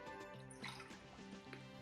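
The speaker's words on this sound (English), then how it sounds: "I go ahead pour enough of water to cover my meat, my vegan meat." Water pours over vegan meat in a pot, a soft continuous trickle with small drips and splashes, quiet and close, under a faint hum.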